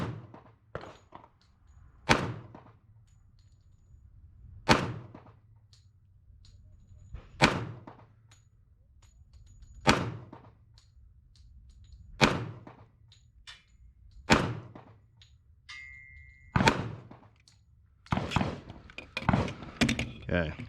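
Ruger P90 .45 Auto pistol fired at a shooting range, eight sharp shots spaced a couple of seconds apart, then a quicker cluster at the end, with faint talk in between.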